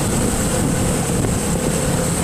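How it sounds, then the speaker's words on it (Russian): Loud, steady wind and engine rumble recorded on a Lenovo Legion Y70 smartphone camera while riding a motorbike, a continuous broadband roar with no breaks and no voices. "при поездке на байке"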